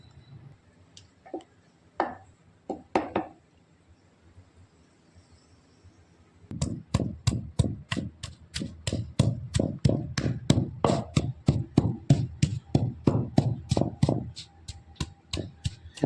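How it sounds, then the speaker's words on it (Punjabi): Ginger, green chili and salt pounded in a mortar and pestle, a few scattered thumps at first, then a long steady run of rapid, sharp rhythmic blows, close and loud, with no talking. "ਹੁਣ ਆ ਕੁੰਡੇ ਸੋਟੇ ਦੇ ਵਿੱਚ ਅਦਰਕ ਹਰੀ ਮਿਰਚ ਤੇ ਨਮਕ ਹੈ ਇਹਨੂੰ ਕੁੱਟ ਕੇ ਦੇ ਸਾਗ ਦੇ ਵਿੱਚ ਪਾਵਾਂਗੇ"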